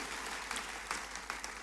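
A church congregation applauding during a sermon, steady dense clapping throughout at moderate level with no talking over it.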